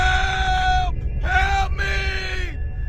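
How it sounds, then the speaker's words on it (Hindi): Screaming and shouting come from inside a room in a bungalow, three long, loud, harmonic cries with brief gaps between them. "और एक बार फिर से अंदर से चीखने चिल्लाने की आवाज आने लगती है।"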